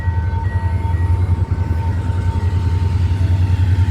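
A train rumbles loudly past close by in Sri Lanka, with a steady heavy low roar and rhythmic rolling of the wheels.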